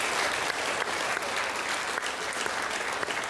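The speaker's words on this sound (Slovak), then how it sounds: "potlesk víťazovi" A studio audience at a Slovak television quiz show breaks into steady, dense applause for the winner, loud and continuous from start to finish with no voices over it.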